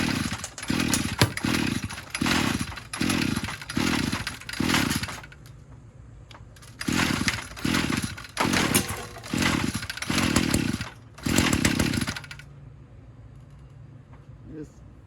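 Weed eater engine with the choke on revs in repeated short bursts, sputtering between pulls and stalling, then catches again and cuts out, ending with a faint idle-like tail.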